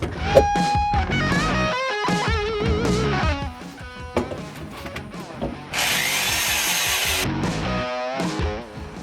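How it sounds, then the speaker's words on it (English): A power drill whines loudly in repeated bursts, pitch rising and falling as it bores holes for rivnuts in a fuel surge tank installation, with short pauses between holes. "And here, we just drill out our holes."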